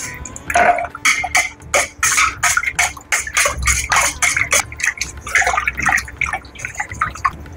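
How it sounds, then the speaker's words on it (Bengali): Water is poured into a bowl for soaking about 750 grams of cut ash gourd with lime, a splashing and dripping pour with uneven bursts running steadily through the whole stretch, close and moderately loud, with no talk. "জল নিচ্ছি 1 লিটার, চুন দেব 1 চামচ।"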